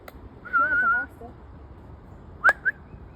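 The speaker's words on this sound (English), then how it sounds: "I've been practicing my whistling." A person whistles outdoors on a nature walk: one short warbling tone, then two quick rising chirps a little later, fairly close and clear over quiet background.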